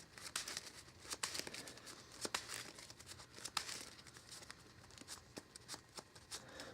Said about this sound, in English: Let's shuffle that up.